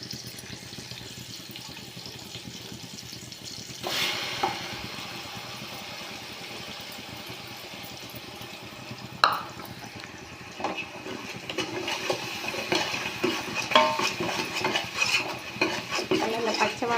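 Ginger garlic paste frying with browned onions in a pan for chicken biryani, stirred with a metal spoon that scrapes and clinks now and then over a steady low sizzle, busier near the end.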